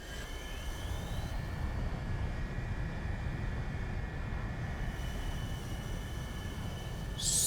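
A fighter plane in the War Thunder video game drones with a continuous engine roar and faint whining tones, loud and unbroken throughout, with no talk.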